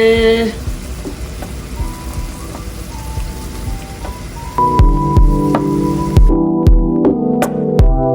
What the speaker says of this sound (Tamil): இப்போவே வழியில் நல்ல மழை